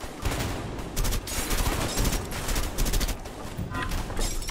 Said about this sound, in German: Warte, ich muss hier noch ein paar Weinflaschen zerschießen.